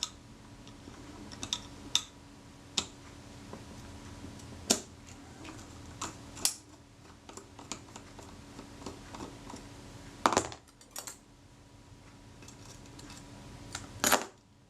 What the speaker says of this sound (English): So I'm just going to remove that screw.